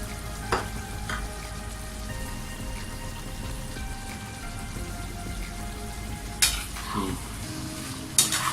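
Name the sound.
stirring coriander into mutton karahi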